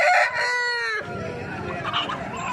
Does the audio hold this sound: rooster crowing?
yes